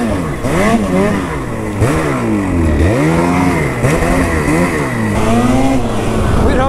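A motorcycle on an off-trail ride revs repeatedly, its engine pitch sweeping up and down in close, loud surges with wind noise underneath.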